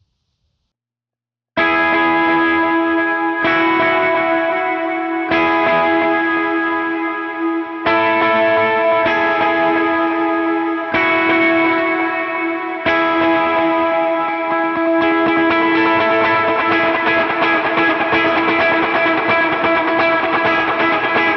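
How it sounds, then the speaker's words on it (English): Effects-laden electric lead guitar plays the chorus and post-chorus of a song after a short silence: sustained distorted, chorused chords in repeated phrases with echo and reverb tails, loud and unaccompanied, thickening toward the end. "I'm going to go through the chorus and the post-chorus with all the effects, and it'll sound like this."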